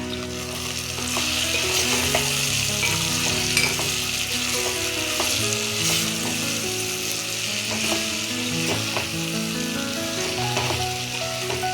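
Vegetables for sambar fry in a pan as chili powder and coriander powder are stirred in, giving a steady close sizzle with repeated scraping strokes of the spoon throughout.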